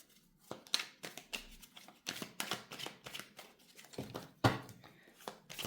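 Oracle cards are shuffled up close, heard as quiet, irregular bursts of riffling and slapping card edges with brief pauses between handfuls.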